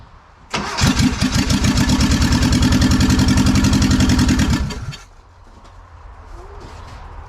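A 1975 Volkswagen Westfalia bay window bus engine cranks and catches, a loud rapid chugging from close by lasting about four seconds before it cuts out to quiet background.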